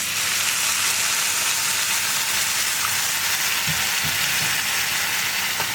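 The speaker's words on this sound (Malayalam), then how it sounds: "ഇതിലേക്ക് നമുക്കിനി ചൂടുവെള്ളം ആഡ് ചെയ്യാം." Hot water hits a pan of sizzling onion-spice masala for egg masala, producing a loud, continuous hiss and bubbling wash with a few faint clinks, no voices.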